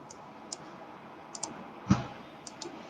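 A few light, isolated computer mouse clicks, close and sharp, with one slightly heavier click near the middle, spaced irregularly over faint room noise.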